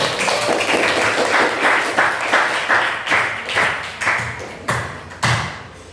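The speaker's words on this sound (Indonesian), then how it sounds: "Tepuk tangan." Classroom students applaud a presenting group, the clapping coming in repeated rhythmic bursts of a dozen-odd pulses that swell and fade, fairly close and loud with no talk over it.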